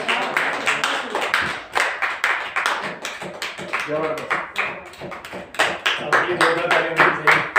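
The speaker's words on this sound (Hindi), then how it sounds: "आपके जोरदार तालियां होनी चाहिए।" Audience applause at an Akshaya Tritiya poetry and song gathering, a dense patter of many hands clapping steadily throughout, rising and falling, with a voice speaking over it.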